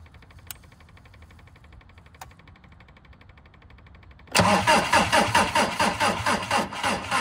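A few faint clicks, then a TDI diesel car engine with a weak battery suddenly cranks into loud, rhythmic chugging that keeps churning unevenly to the end.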